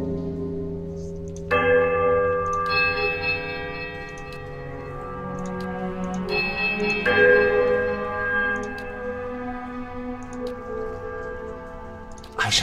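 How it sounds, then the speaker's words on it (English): A big bell in the video game Pillars of Eternity rings out in two strong resonant strikes, each leaving a long humming tail that slowly fades under soft game ambience. "Ring the big bell."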